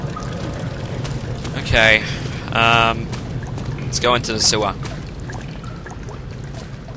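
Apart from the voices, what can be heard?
water draining in Amnesia: The Dark Descent video game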